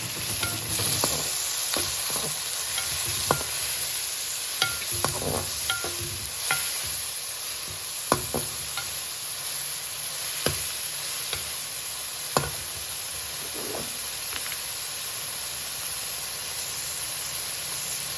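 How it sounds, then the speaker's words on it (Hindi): Tomatoes and chillies stir-fried in a pan for aloo methi, a constant hissing sizzle with frequent knocks and scrapes of a spoon as the mixture is stirred. "जब इसमें टमाटर और मिर्ची डाल दें, इसको अच्छी तरह मिक्स कर लें।"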